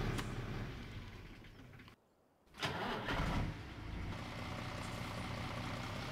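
Fendt Favorit 500 tractor engine in Farming Simulator 17 running steadily, cutting out for a brief moment, then cranking back to life with a loud surge before settling into a continuous low rumble.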